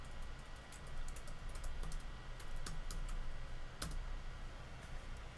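Rapid, uneven keyboard typing with clustered clicks and a few sharper key strikes, close and steady throughout.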